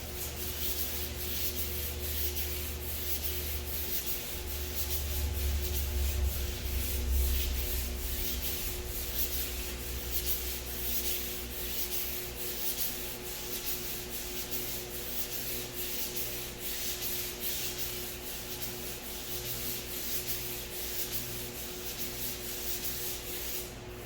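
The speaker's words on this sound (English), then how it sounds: "I'm just letting it glide over. No pressure. Just letting the sandpaper do the work." A sanding block glides back and forth over a car cowl panel under light pressure, the sandpaper giving a steady, close, rasping rub that keeps going for a long stretch with a faint low hum underneath.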